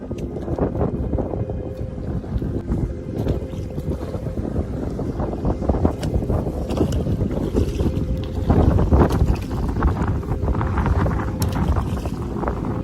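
Strong wind buffets the microphone in a constant roar on a river, with choppy waves sloshing and slapping throughout, loud and close, no voices.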